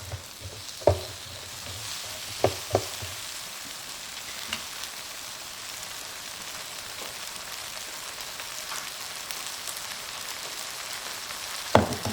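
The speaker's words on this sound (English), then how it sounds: "Stir fry in this tested oil." Ground beef stir-frying in hot oil in a pan gives a steady, low sizzle, with a few sharp pops and spatula clinks early on and near the end, and no voices.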